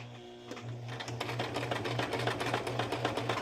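A sewing machine stitches forward in a steady, close run, its motor humming under rapid, evenly spaced needle pulses that continue without a break.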